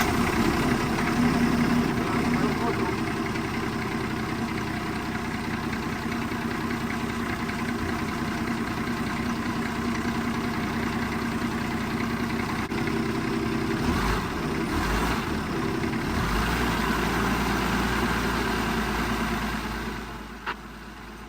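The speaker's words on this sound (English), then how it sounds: "As you can see there, I'm accelerating and it doesn't accelerate barely anything" Diesel forklift engine struggling with no power, a steady rough idle drone that barely rises when throttled, with a shift in tone near the end.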